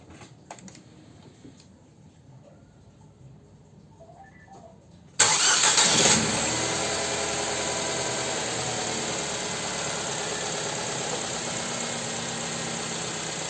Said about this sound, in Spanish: Procedo a encender el motor de este Nissan Tida.